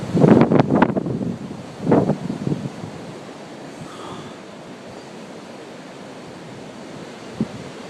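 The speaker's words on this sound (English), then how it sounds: "the wind's blowing so hard at times" Strong wind gusts roar during a snowstorm of about 60 mph. Loud, buffeting blasts hit the microphone in the first two seconds and return briefly, then ease into a steady, rushing wind.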